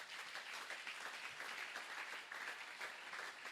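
A church congregation applauding during a French-language worship service, steady dense clapping from many hands that fills the space evenly and stays constant throughout.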